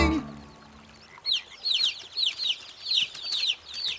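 Ducklings in a children's TV show give a run of high, quick peeping chirps in small clusters after a short low sound at the start, fairly faint against a quiet background.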